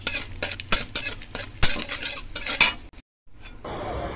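Cashews and raisins fry lightly in oil, with a busy sizzle, spatula clatter and scraping against the pan, then a brief pause before a steady hiss resumes. No one speaks.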